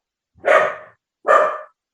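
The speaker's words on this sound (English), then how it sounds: "3 little barks and he stopped." A dog gives two short, sharp barks about a second apart, fairly close and otherwise alone in silence.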